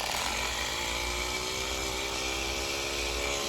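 A LifeBasis rechargeable mini power scrubber with its brush head fitted runs steadily, a continuous close motorized whine and buzz holding level without pause for the whole stretch.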